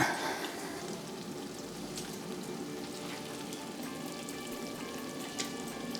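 Meat for a Durban curry frying in a hot pan, giving a steady, close sizzle and crackle with some light stirring and no talk.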